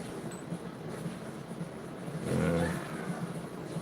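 A truck driven in a video game with police cars in pursuit, its engine droning steadily at moderate level before surging louder in a brief rev and then settling back.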